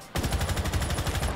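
Rapid automatic gunfire in Rainbow Six Siege, a sustained burst of about a dozen close, punchy shots at an even fast rhythm after a brief quiet start.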